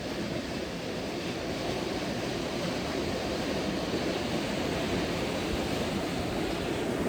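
Storm-swollen river water churns and whirls below a train trestle bridge, a steady, broad rushing roar without pause, fairly faint and distant.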